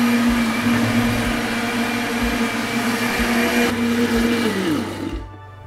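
A blender whirs loudly and steadily as it mixes homemade Amarula-style cream liqueur ingredients with cocoa and extract, then the motor winds down and falls silent at the end.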